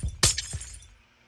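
A glass block shatters in Minecraft hardcore mode with a bright, crunchy crash followed by a short tinkling tail, fairly quiet with low background noise and no speech.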